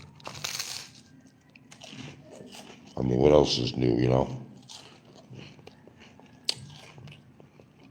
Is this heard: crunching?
yes